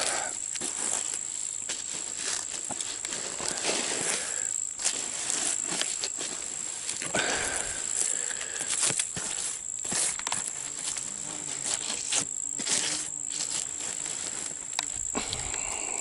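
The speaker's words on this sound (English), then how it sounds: "So a cricket got in there somehow, I think through that little bit right there, and then he couldn't get out." A cricket trapped inside a small cut-off container with air holes chirps in a continuous high, thin trill, with light scratching and rustling close by.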